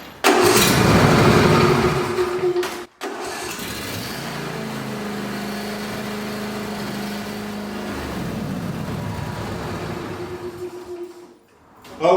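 A garden tractor engine left unused for three months cranks loudly, briefly cuts out, then catches and settles into a steady idle before shutting down near the end.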